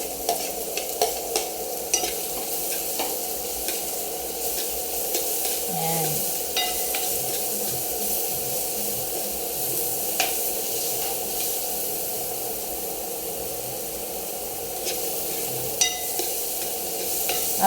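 Onions sautéing in butter in a pan for homemade empanada filling, a continuous close sizzle with occasional scrapes and clicks of stirring, no talking over it.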